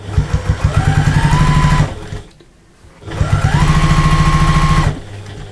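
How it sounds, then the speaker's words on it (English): Sewing machine top-stitching the handle of a fabric shoe carrier: two loud, close bursts of rapid rhythmic stitching with a rising motor whine, split by a brief pause. "So, top stitch the handle."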